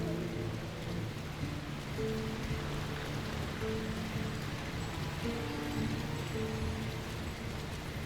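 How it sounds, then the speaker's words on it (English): Steady rain pours through the whole stretch in the fantasy action game Lord of the Rings: War in the North, a dense even hiss with a low rumbling undertone, and no talking. "Who could live in a town where it's always raining?"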